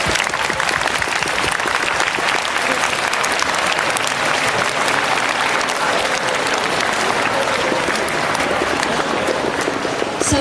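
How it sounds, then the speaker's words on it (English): An audience claps in a sustained, dense round of applause that stays loud and even for the whole stretch, with no break or fade. "We could give Mr. Seng a round of applause."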